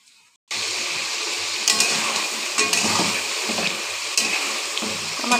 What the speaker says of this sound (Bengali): আমার কষানো প্রায় হয়ে এসছে।